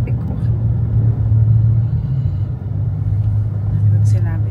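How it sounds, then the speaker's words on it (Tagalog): Heavy, slow-moving car traffic on EDSA road rumbles steadily from inside a vehicle, a constant low engine and road drone with faint passing movement and no clear voices. "maraming sasakyan. Kaya, mabagal ang daloy ng traffic ko."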